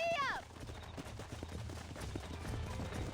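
Horse hooves galloping in the Red Dead Redemption video game, a steady rhythmic clatter under game sound, after a short shout urging the horse on.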